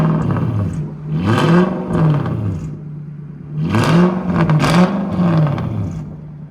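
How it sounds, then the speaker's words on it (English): An Infiniti M45 with a 4.5L V8 and catless straight pipe exhaust revs loudly and close by, two raspy surging rev bursts rising and falling, with a brief lull between them and no talk. "It's a fully straight pipe M45. That's what it sounds like before."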